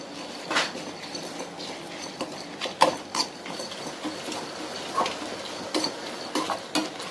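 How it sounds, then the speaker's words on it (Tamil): Coconut and spices sautéing in a pan for chicken curry fry, a light sizzle under repeated scraping and clinking stirs of a utensil against the pan. "தேங்காய் எல்லாம் இப்படி வதங்கணும்."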